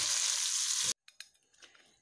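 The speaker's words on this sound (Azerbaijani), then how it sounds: "İndi isə pişirdiyim ətləri tavada bir qədər qovururum." Cooked meat sizzles in a pan with onion and herbs, a dense loud hiss for about a second that cuts off abruptly, followed by faint scattered clicks and crackles.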